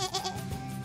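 A toy farm sheep gives a brief electronic bleat, a short wavering baa heard alone at moderate loudness.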